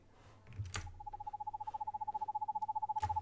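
Owl in the video game Perception makes a fast, even pulsing hoot at a fixed pitch that starts after a sharp thump and runs to the end, broken by a second brief noise burst near the close.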